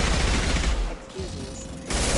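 Rapid bursts of gunfire in the PS4 video game Mass Effect 2, a dense volley of shots at the start and again at the end with a quieter gap between, loud and close.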